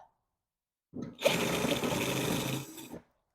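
A drill fitted with a 1/4 inch bit bores through the trunk panel of a BMW Z3, giving a close, harsh grinding buzz that runs for about two seconds and then stops.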